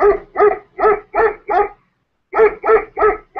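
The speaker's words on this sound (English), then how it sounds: "There's also dog barking." A recorded dog-barking alarm from a classroom timer app plays loud and clear: a rapid run of five barks, a short pause, then four more in the same even rhythm.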